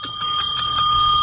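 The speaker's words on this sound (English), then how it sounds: "Inappropriate bell" A bell rings several times in quick succession in a studio during a radio show, bright repeated strikes with a steady ringing tone sustained throughout.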